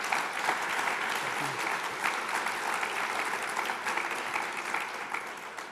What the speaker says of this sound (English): So give our guest a round of applause, ladies and gentlemen.